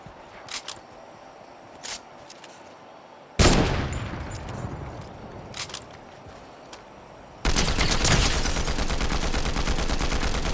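Gunfire in the video game Fortnite, with scattered single shots early on, then a loud burst and a long sustained stretch of rapid automatic fire near and dominant, with no talk.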